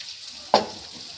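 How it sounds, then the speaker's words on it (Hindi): Buttermilk poured into a pan of roasted masala sets off one sudden sharp sizzle burst near the mic, quickly fading into a soft hiss with no talking. "और अब मैं डाल दूँगी इसमें छाछ को।"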